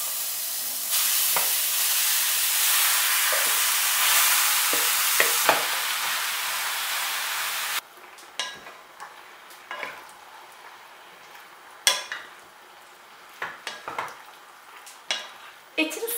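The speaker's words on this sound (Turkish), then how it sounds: "Bu ana etlerini tencereme alıyorum." Meat for an oven aubergine kebab cooking in a pot, a steady loud sizzle and hiss for several seconds, then quieter bubbling with scattered clinks and stirring knocks.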